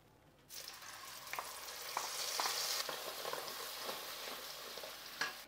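Spice paste for cashew chicken hits hot oil and fries with a steady loud sizzle, with occasional stirring scrapes and pops throughout.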